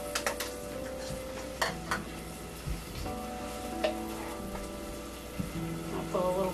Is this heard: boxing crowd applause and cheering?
no